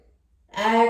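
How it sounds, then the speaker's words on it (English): A single loud, audible inhale during yoga breathing, drawn sharply through the throat after a moment of near silence, close and breathy with a rough, voiced rasp. "I want you to make the inhale as loud and audible as possible"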